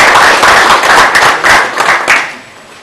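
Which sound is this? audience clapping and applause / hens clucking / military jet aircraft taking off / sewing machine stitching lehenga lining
audience clapping and applause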